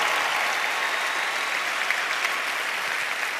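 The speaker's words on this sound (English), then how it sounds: "just by a quick round of applause" A large convention-hall audience at a national conference opening ceremony gives sustained applause, a dense, even wash of many hands clapping at once, steady and fairly loud throughout.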